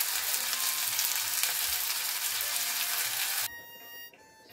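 Spice paste for a shol fish curry fries in a pan with a loud, dense, continuous sizzle that cuts off abruptly near the end, leaving a quiet hum.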